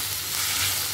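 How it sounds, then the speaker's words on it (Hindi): Mutton pieces frying with spices in a pan for tomato gosht gravy, a brief dense continuous sizzle close by, steady in level, with no talking. "अच्छी तरह से इसे भी हम मसालों के साथ में भून लेंगे"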